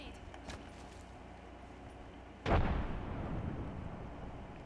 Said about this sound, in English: I'm gonna throw a grenade.